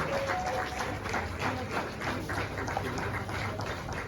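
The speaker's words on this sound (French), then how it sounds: "Sous vos applaudissements, bien sûr." An audience at the closing evening of the Forum International des Femmes applauds, a dense, steady wash of clapping that holds at an even level for about four seconds.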